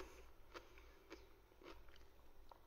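Quiet close-up chewing of crunchy homemade courgette chutney with tender skin, a few soft crunchy bites spaced about half a second apart.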